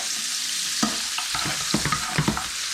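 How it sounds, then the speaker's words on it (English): Bacon and sausage sizzle steadily as they brown in a frying pan, a continuous hiss broken by scraping stirs and small pops from the utensil over about three seconds. "Got our bacon and sausage browning up nice."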